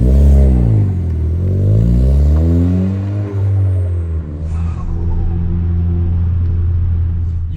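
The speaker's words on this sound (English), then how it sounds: "You can definitely hear that turbo smart blow-off valve you have." A Ford Fiesta ST Stage 2 with a Turbosmart blow-off valve pulls hard through the revs while driving, with a loud droning engine note that climbs and drops, a brief release sound between shifts, and no talking.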